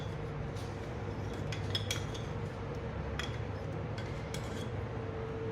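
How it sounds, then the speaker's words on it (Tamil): A spoon clinks and scrapes against a glass or cup as salt and honey are stirred into a homemade weight-loss drink, with steady light taps over a constant low hum and no talking. "இதை நல்லா கொஞ்சம் மிக்ஸ் பண்ணிக்கோங்க அந்த உப்பும் அந்த தேனும் நல்லா கரையணும்"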